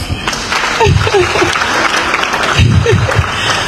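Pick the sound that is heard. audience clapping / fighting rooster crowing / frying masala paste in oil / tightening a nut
audience clapping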